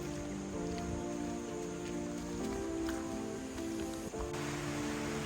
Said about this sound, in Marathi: आणि जोरदार पावसाला सुरुवात झालेली आहे.